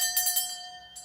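A small altar bell rings in several quick strikes with a sustained bright metallic tone, followed by one more light ring, set on a tray with a white cloth, candle and glass of water.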